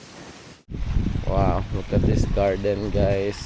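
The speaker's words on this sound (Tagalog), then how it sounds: "Lakas lang ng hangin guys." Strong wind rumbles and buffets the microphone in a hilltop garden overlooking a shrine, a low gusty roar running under a person speaking throughout.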